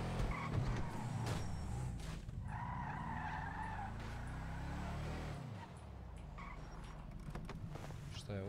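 Tires screech and skid in a racing video game as a Mazda RX-7 slides, with a whining engine that rises and falls under the squeal, all at a fairly low level.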